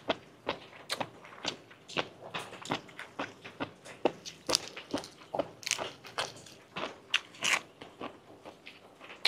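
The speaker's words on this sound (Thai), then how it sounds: "กรุบๆเลย" Jellyfish dipped in spicy seafood sauce is chewed close to the mic, giving a rapid, irregular series of crisp crunches and bites that keep going for several seconds with no talk.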